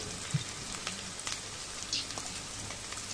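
Ground turmeric, chili and cumin sauté in a pan for a country chicken curry, giving a faint, steady crackling sizzle with scattered small pops and light stirring scrapes.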